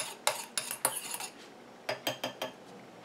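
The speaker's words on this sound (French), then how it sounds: "Et je mélange déjà un petit peu." A spoon stirring a micellar water mixture in a small container, a quick series of light clinks and scrapes in two bursts, close and quiet.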